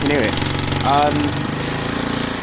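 A Piaggio Vespa 50cc scooter engine with an exhaust blow runs steadily up close, its rough, rapid puttering continuing throughout while voices talk over it.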